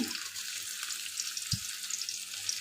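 Crushed garlic frying in a five-spice panch phoron tempering for a pumpkin and Malabar spinach curry, giving a steady, close sizzling hiss throughout with one soft low thump partway through and no voices.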